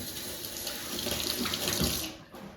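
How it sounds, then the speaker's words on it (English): A kitchen tap runs steadily as hands are rinsed under it, a close, continuous splashing gush that cuts off near the end. "Let me rinse my hands."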